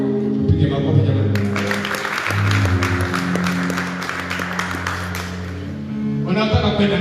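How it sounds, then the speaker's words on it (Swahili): Church congregation applauding and clapping in a burst under a preacher's loud voice and background music, the clapping swelling mid-clip as the talking pauses, then the speech resumes. "Pige makofi jamani."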